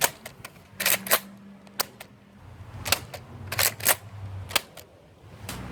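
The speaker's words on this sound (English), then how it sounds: "And now the fuse fire from its inline magazine." A toy disc blaster fires discs from its inline magazine in a rapid series of sharp, close clacks and snaps, with short mechanical whirring in between and no voices.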